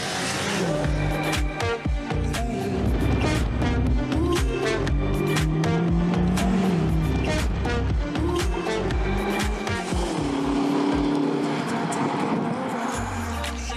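A 625 hp rear-wheel-drive BMW weighing nearly two tonnes accelerating hard, engine pitch climbing and dropping through gear changes with loud exhaust crackles, heard from inside the car.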